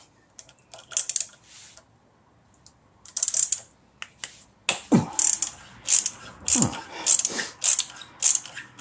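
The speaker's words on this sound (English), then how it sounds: "let's get these brake pads out. 5mm socket." A ratchet fitted with a 5mm socket works on the front brake pads of a Honda CB500X motorcycle, making quick bursts of sharp clicking with short pauses between them, loud and close, with no speech.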